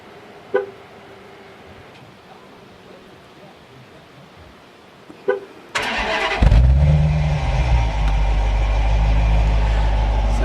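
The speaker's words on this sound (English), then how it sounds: "We'll see what the stock exhaust sounds like" A 2016 Dodge Challenger R/T with the 5.7 V8 and stock exhaust cranks over after a couple of chimes, then fires and settles into a loud, deep idle rumble up close.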